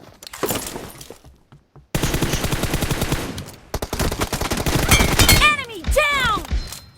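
Bursts of automatic gunfire ring out in the mobile shooter PUBG Mobile, with a short burst early on, then long rapid volleys of dense shots and ringing, sweeping tones near the end.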